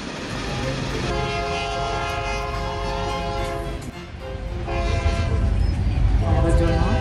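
Rajdhani Express train running on rails, heard from inside as a loud, continuous rumble with a sustained multi-tone horn blast through most of it and louder, heavier rolling near the end.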